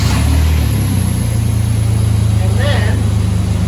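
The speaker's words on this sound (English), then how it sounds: "Start the truck." A truck engine runs at a steady, loud idle with a low pulsing rumble close by, while a brief voice speaks over it partway through, during a power steering repair.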